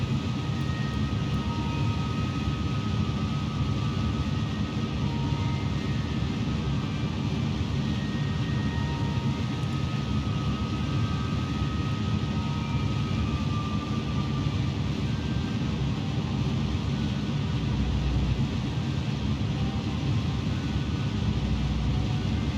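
Rocket engine burn in Kerbal Space Program during a Jool approach, a steady, loud synthetic roar with broad low rumble held without break for over twenty seconds.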